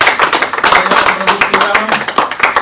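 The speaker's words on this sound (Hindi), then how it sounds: "आप सभी जोरदार तालियों से स्वागत करेंगे।" An audience at a Bhagavad Gita workshop in an ashram claps to welcome a swami, a dense run of close, sharp, uneven claps with a voice faintly mixed in.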